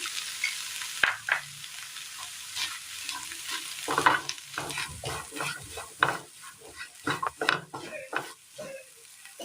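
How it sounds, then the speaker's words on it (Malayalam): Fried brinjal stirred into a chickpea curry in a pan: uneven spoon scrapes and clatters against the pan over a soft sizzle, fairly close and moderately quiet. "വറുത്തെടുത്ത വഴുതനങ്ങ കൂടി ഇട്ട് കൊടുക്കാം."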